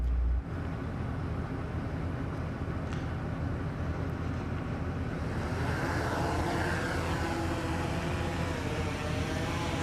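A camera drone takes off and flies over flooded farmland at Tennessee State University, its steady, loud whirring hum starting almost at once and holding close and constant throughout, with no talking.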